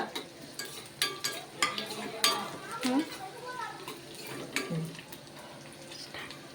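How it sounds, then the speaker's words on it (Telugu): Onions frying in hot oil in a pan for a curry, a steady sizzle under scrapes and clinks of a stirring utensil against the pan, with a voice speaking intermittently. "ఇక ఆయిల్ వేడిందండి, ఉల్లిపాయలు వేపుకుందాము."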